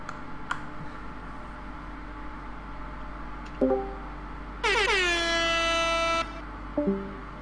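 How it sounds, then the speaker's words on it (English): A loud, sustained air horn blast comes through a game-chat microphone during a Space Engineers session, lasting over a second, with short horn-like chirps and faint keyboard typing around it. "I heard the air horn through somebody's microphone"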